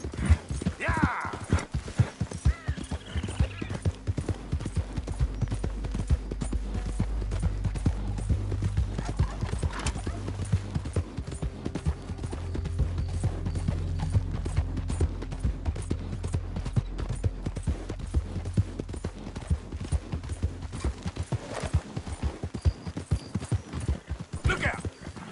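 A horse gallops in Red Dead Redemption 2, its hooves clopping in a fast, continuous rhythm with a neigh or two near the start, while a player talks and calls out over the action.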